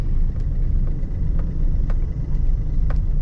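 A car rolls along in third gear with no accelerator applied, giving a low, steady engine rumble with faint road noise and a few light clicks and ticks from inside the cabin.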